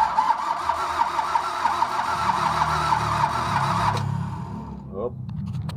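A diesel car engine, its timing belt recently replaced, cranks over on the starter with a steady rhythmic churn for about four seconds, then cuts off. Someone speaks briefly near the end.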